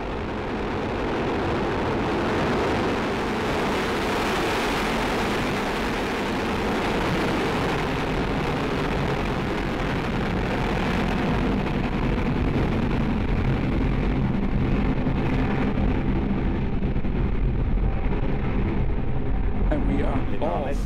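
A Soyuz ST-A rocket lifts off from French Guiana carrying the Sentinel-1B satellite: a loud, continuous, broadband roar sustained throughout, dense in the low end with steady crackle and rumble.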